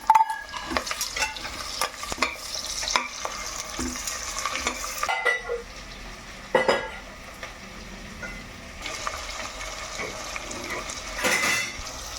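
Sliced onions frying in oil in a pan with green chillies, stirred with a utensil: steady soft sizzle under repeated scraping and clinking strokes of the spoon against the pan, with no voices.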